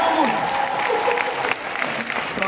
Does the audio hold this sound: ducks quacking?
no